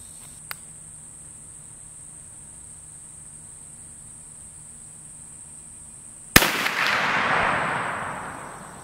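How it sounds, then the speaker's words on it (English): A single sharp, loud crack from a Ruger rifle firing a Remington 180 grain jacketed soft point round breaks a quiet outdoor background with a steady insect drone, then rings off in a fading echo. "Now we're shooting the 180 grain Remington jacketed soft points."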